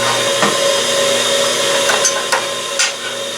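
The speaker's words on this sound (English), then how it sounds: "I'm going to drill that hole." A steady, high-pitched mechanical whine drones throughout, with a few brief scraping bursts near the end, as a drill bores a hole through metal, lubricated with a little oil.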